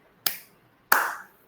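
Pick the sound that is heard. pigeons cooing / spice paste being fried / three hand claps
three hand claps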